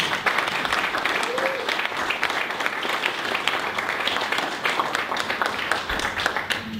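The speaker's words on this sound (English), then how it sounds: "Let's give Derek a round of applause" A business marketing talk audience gives a round of applause for the speaker, continuous crowded clapping that holds steady throughout, with a brief voice over it.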